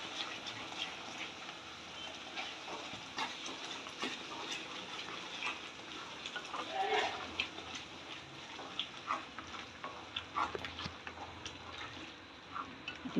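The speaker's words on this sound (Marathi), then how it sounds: "हा मसाला चांगला तेल सुटेपर्यंत परतून घ्यायचा." Masala sizzling in oil while it is stirred, for a cauliflower bhaji; a steady, quiet crackle and fry with scattered small pops and scraping ticks throughout, close up and without talk.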